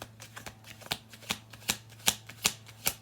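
Playing cards being riffle-shuffled in a steady series of crisp, rattling bursts, about eight in three seconds, close and fairly quiet.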